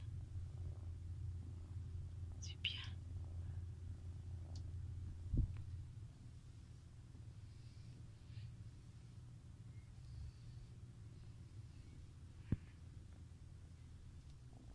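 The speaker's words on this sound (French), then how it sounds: "tu ronronnes." A cat purrs steadily and close by, a low continuous rumbling throughout, with a couple of brief clicks and a short quiet spoken remark.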